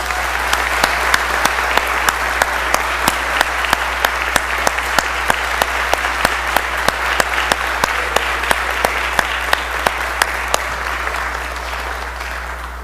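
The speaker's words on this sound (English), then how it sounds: "Let's all give them a round of applause." Sustained applause rises in a state House legislative chamber for a visiting student group, a dense, even wash of clapping with sharp individual claps standing out, continuing for many seconds without talk.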